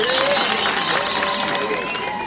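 Crowd at a political rally in Kisii, Kenya, clapping and cheering, dense applause and crowd noise at steady loudness with babble mixed in.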